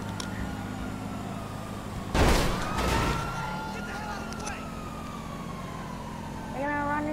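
Wailing police sirens in Grand Theft Auto V rise and fall in the background, blended with engine noise and a brief burst of loud activity, while people talk over it.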